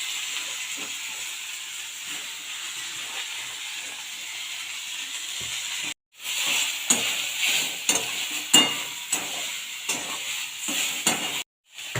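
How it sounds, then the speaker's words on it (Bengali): Boiled water spinach greens frying with chopped onion and cumin, a strong hissing sizzle that grows louder partway through as stirring scrapes and clinks punctuate it, alone without speech. "পেঁয়াজ কুচি দিয়ে দিলাম জিরা ফোড়ন দিয়ে দিলাম সেদ্ধ করা শাক দিয়ে দিলাম"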